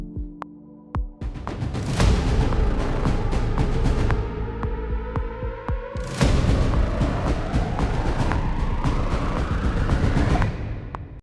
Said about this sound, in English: now we are going to add a riser or two.